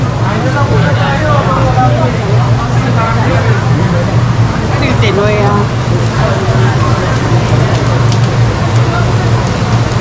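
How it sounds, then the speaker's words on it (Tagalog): Steady, dense hiss of heavy rain pouring down at a hot air balloon event in Taitung, Taiwan, loud and continuous throughout, with faint voices and background rumble mixed in. "Lumakas ang ulan na hindi inaasahan kasi ang dilim ng langit."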